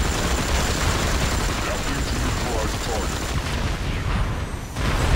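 Continuous gunfire and explosions in the video game Marvel Heroes 2016 while fighting sentinels, a dense, loud barrage of rapid shots that cuts off abruptly near the end.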